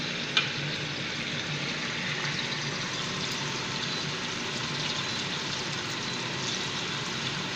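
Beef frying in a pan, a steady close sizzle and crackle running throughout with one small tap near the start and no voices.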